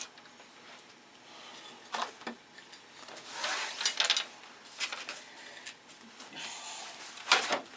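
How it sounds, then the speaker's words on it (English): Intermittent rough scraping strokes of hand sanding on a wooden wing part, quiet and close, coming in short irregular bursts with pauses between. "Needs a little sanding."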